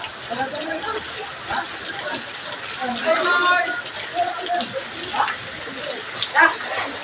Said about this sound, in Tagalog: Tubig. Ang laki ng tubig dito.